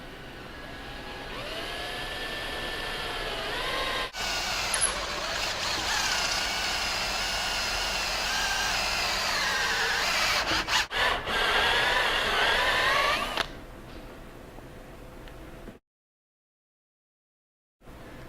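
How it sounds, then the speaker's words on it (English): Power drill boring a large diameter hole during a Pro Launch installation on a CRF dirt bike, a loud sustained whirring grind with shifting pitch for about thirteen seconds before cutting off into quiet. "And then I'm going to go ahead and drill through here."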